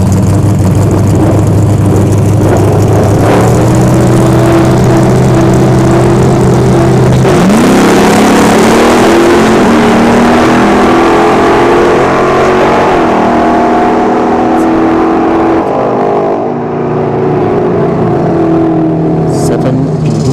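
A donk car at a drag strip, its big engine roaring loud and close, holding a steady drone then sweeping up in a long rising rev that lingers and fades, with crowd noise around.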